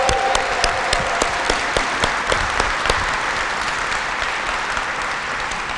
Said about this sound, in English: a very final round of applause for the 50th year and all of the graduates